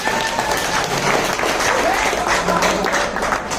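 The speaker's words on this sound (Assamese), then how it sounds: "যদি ভাল পাইছে আপোনালোকে এবাৰ হাত চাপৰি এটা দিয়ক" An audience at a spring evening celebration claps steadily, a dense, loud wash of applause from a crowd that holds for the whole stretch, with some voices mixed underneath.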